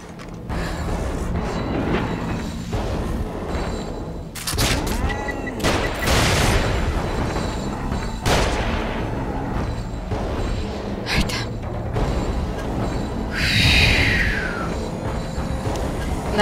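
Someone talks over explosions and bursts of gunfire in the horror video game The Evil Within, with booms and sharp shots scattered irregularly through the fight.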